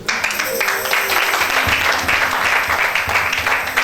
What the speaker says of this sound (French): Acclamez pour elle.